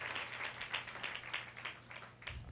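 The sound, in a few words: congregation clapping for Jesus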